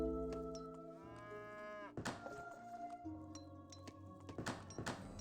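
A cow moos at a hacienda in the video game Age of Empires 3, one long clear low moo followed by soft thunks and clinks of game activity.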